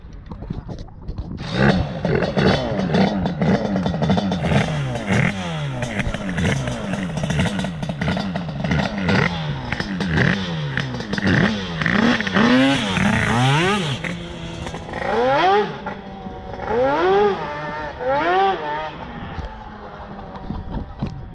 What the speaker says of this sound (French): il va rôder le bicylindre parce que c'est donc ils ont déjà démarré mais il a jamais roulé au sol encore ce truc